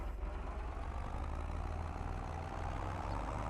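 An underpowered tractor engine in Farming Simulator 22, hauling an extra ton of weight, a steady low diesel drone with rumbling bass, constant and unbroken.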